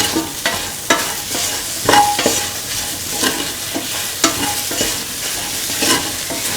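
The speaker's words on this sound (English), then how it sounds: "Put in the tomato pieces. Mix." Tomato pieces are stirred into a hot pan for an egg, soya chunk and carrot coconut milk stew, giving repeated close spatula scrapes over a steady sizzle, with no talking.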